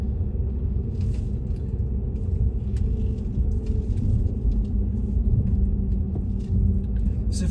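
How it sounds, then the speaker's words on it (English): A diesel car driving through the Lickey Hills and Barnt Green area, with a steady low engine and road rumble throughout and some faint clicks over it. "I'm driving a diesel."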